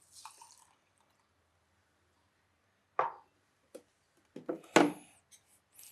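Rice being rinsed by hand in high-alkaline water of pH 11.5: a few brief wet splashes and drips, sparse and close, separated by quiet gaps.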